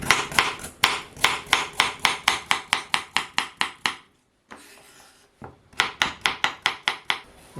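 A kitchen knife slicing carrots on a cutting board, producing a quick, regular series of sharp thuds close by, a short pause, then another rapid burst of cuts.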